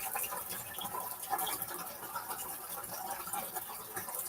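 Steady running water from a kitchen tap fills the sink during dishwashing, a constant broadband hiss with small splashing variations, close and moderately loud, with no talking.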